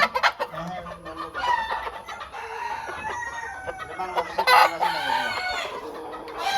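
Silverless Sultan chickens on a farm in Chauddagram, Comilla, cluck and squawk continuously at close range, several birds overlapping with a louder outburst near the end.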